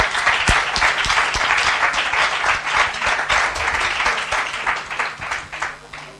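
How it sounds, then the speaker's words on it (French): A church congregation breaks into dense, sustained clapping that holds steady throughout, with a few scattered voices mixed into the applause. "Applaudissez pour ça"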